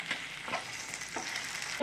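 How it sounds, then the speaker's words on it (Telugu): Tender okra fries lightly in a pan with oil, giving a soft, steady sizzle close by, broken by a few light stirring scrapes. "జస్ట్ లైట్గా ఫ్రై చేసుకోవాలి ఫస్ట్ మనం వీటిని"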